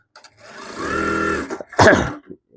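A JUKI DDL-900C industrial sewing machine stitches fabric with a steady, close mechanical whir lasting about a second. Short knocks and rustles follow.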